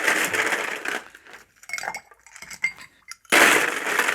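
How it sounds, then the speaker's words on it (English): Ice cubes clatter and clink into a cocktail shaker in quick, bright bursts, with a heavier rush of ice at the start and again near the end and scattered lighter clinks between. "I'm just going to ice this up now."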